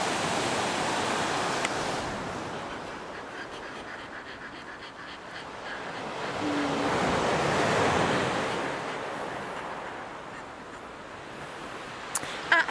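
Winter sea waves roll onto the shore at Brighton, a broad continuous wash that swells and recedes with gusty wind noise on the microphone and a faint click near the end.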